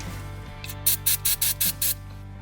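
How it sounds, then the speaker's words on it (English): An aerosol can of electronics cleaner fires about six short, sharp hissing bursts onto the ABS sensor mount of a 2004 VW Golf TDI in a workshop, close and distinct over a low background hum. "Electronics cleaner again."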